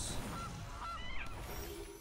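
Several short nasal goose honks sound from a digital card game, Magic: The Gathering, spaced apart at moderate loudness over a low background hum.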